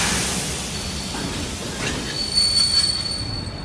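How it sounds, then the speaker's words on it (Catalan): Train wheels screech against the rails as the train brakes, a sustained high metallic squeal over steady rumble that swells slightly toward the end, with no voices. "El so eixordador de les rodes que frenen m'arriba de lluny."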